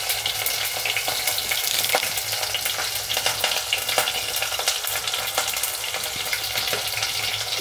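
Sliced onions, dried red chillies and curry leaves fry in a pan while being stirred, giving a loud, continuous sizzle with frequent scraping clicks throughout.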